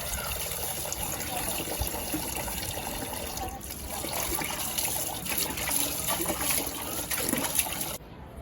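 A household water tank filling from a tap, a continuous splashing gush with faint trickling detail, steady at moderate level before cutting off abruptly near the end.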